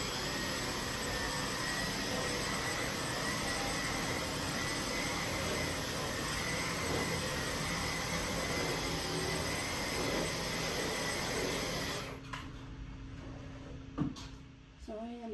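A vacuum cleaner runs over carpeted floors upstairs in a home, a loud, steady whining drone that holds for about twelve seconds and then cuts off, leaving a few faint knocks.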